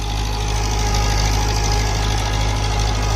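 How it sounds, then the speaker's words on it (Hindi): A 60 HP tractor engine runs steadily under load while driving a rotavator, giving a loud, continuous low rumble with a thick mechanical drone and no pauses. "पहला ट्रैक्टर जो इतनी तेज चाल पर चल रहा है भाई रूटर पर।"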